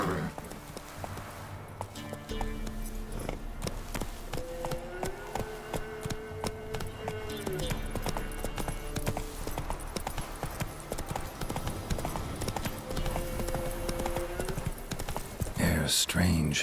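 Hooves clop in a fast steady gallop as a horse runs in The Witcher 3 video game, a continuous rhythmic beat under game music and ambient sound, with a brief horse snort near the end.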